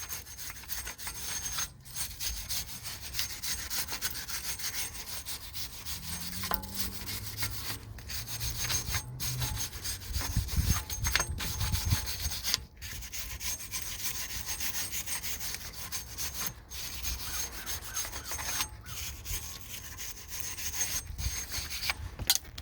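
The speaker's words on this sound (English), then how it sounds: "we're gonna take this wire brush, we're gonna clean around it" Wire brush scrubbing around the front brake hub of a Mercedes S550 (W222) during a rotor replacement, a steady close-up raspy rubbing that runs continuously with brief pauses and no talking.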